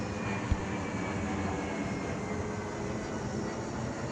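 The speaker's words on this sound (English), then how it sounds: "we got an airplane going." Airplane passing overhead above a garden at sunset, a broad steady engine rumble and roar holding at even loudness throughout, distant but filling the air, with no voices.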